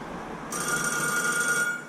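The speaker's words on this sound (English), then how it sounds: "and the phone rings again" A telephone bell rings in one sustained electronic trill that starts abruptly and holds for over a second in a quiet room, then cuts off.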